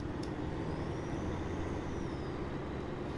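Steady, dense rumble of a truck engine idling or driving in the snow-covered off-road game SnowRunner, with a faint rising and falling whine over the top; continuous and fairly close, no speech.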